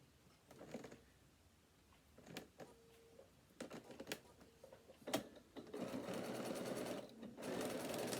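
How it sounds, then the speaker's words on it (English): A sewing machine stitching a quarter-inch seam around a fabric bag panel, running in short stop-start bursts that grow into a longer, steadier whirring run near the end, with occasional soft handling clicks. "We're going to sew all the way around, leaving a turning gap on the bottom piece."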